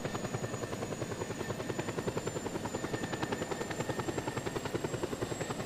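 A helicopter in the video game Just Cause 2 Multiplayer, its rotor thumping in a steady, fast rhythm under a high engine whine, loud and close throughout.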